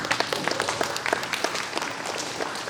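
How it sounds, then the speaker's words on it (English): A community gathering gives itself a round of applause, many hands clapping in a brisk, dense burst with sharp individual claps standing out, loud and close, with no talk over it. "I'd like you guys to give yourselves a round of applause"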